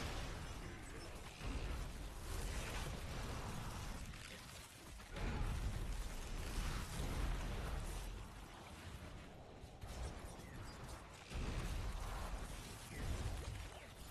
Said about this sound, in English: I don't want to die in the poison's explosions.